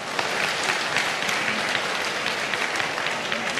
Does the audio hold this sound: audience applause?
yes